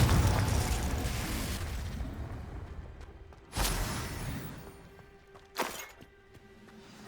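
Confringo blasting spells bursting in Hogwarts Legacy, with an early rumble and two sharp separate booms later in the clip, each followed by a ringing tail over quiet ambience.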